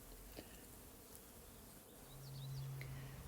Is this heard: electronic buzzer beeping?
no